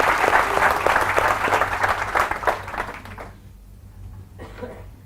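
An audience claps at a seminar, a lively burst of close applause that holds for about three seconds and then stops abruptly, leaving a near-quiet room with a faint sound or two afterwards.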